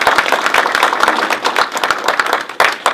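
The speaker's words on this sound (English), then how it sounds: "how about one more round of applause for" Applause from an audience at a retirement ceremony, a dense burst of many hands clapping steadily for about three seconds.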